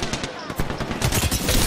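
Charge rifle fire in a multiplayer shooter video game crackles in a dense, rapid burst of shots lasting under two seconds, loud and up close.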